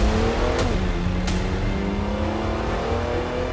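A Porsche 911 Turbo S engine pulls hard and loud with a quick gear change early on, then holds a steady, strong drone as it keeps accelerating.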